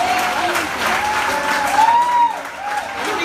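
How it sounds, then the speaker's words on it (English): A live audience claps along at an evening concert on a stage at Third and Lindsley, a dense steady wash of applause that swells slightly near the middle, with a voice talking over it. "Just clap."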